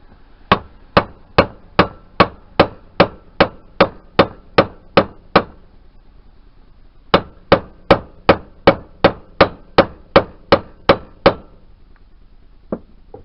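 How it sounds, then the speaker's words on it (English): Hammer blows on a 1988 Yamaha DT125R motorcycle engine case, a steady run of about fifteen sharp, loud strikes, a short pause, then another quick series of around twelve, ending with one last single knock. "with this motor all I seem to have done is hit it with a hammer"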